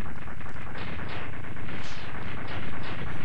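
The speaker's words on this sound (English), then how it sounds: "This time they explode with blue fire now." Enemies blowing up in blue fire in Mega Man X2, a loud, dense run of rapid blasts and crackling bursts with no pause.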